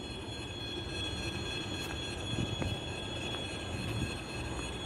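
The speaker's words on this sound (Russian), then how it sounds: "А, вон электричка поехала" Electric commuter train pulling away from a platform on an autumn day in Moscow, a continuous distant rumble of rail wagons with faint wheel squeal, heard outdoors without talk.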